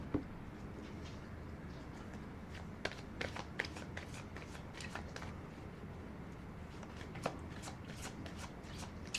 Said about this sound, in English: I'm going to pull a Golden Nostradamus card.